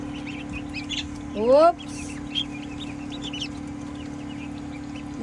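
A duckling hatched from a balut egg lets out one loud, rising peep, close and brief, over a steady background hum, and someone briefly exclaims nearby.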